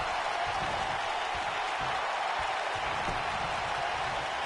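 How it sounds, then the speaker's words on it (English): A wrestling arena crowd roaring in a WWE 2K video game, a steady, loud wash of cheering and applause that fills the whole moment without a break. "Listen to this crowd, King."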